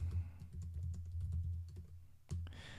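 Fast bursts of key clicks on a computer keyboard, a quick run of close taps, a short pause, then a few more strokes, with a low background hum.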